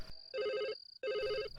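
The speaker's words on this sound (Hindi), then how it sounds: "इतनी रात को कौन फोन कर रहा है यार?" A telephone rings late at night in two loud, near bursts of trilling electronic ringing separated by a short gap, with no talking over it.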